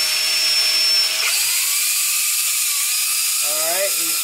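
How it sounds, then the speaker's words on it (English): An 1/8-inch bit drills a pilot hole through a plastic map light lens for a Ram 1500, a steady high-pitched whine with the drill's pitch shifting as it bites and speeds up. "I'm starting with an 1/8-inch drill bit, that way I can kind of like a pilot bit"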